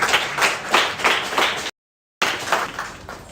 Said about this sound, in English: Please, you just give me a round of applause.